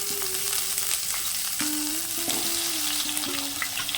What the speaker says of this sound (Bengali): এই তেলেই দিয়ে দেব কেটে রাখা আলু